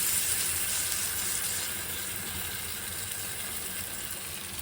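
Sesame-coated bread pakora fries in a pan of oil, making a loud, close, continuous hissing sizzle that eases slightly partway through, with no speech.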